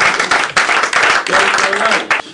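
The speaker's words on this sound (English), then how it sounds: "everyone will give you another clap" Audience applause following a magic trick at a school cabaret competition, loud and close, with bursts of clapping that swell and dip as voices talk over it.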